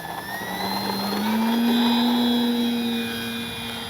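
An FMS 1400mm Pitts V2 RC biplane comes in to land at a runway, its electric motor a steady whining drone that rises in pitch and swells louder as it passes nearby, then eases slightly.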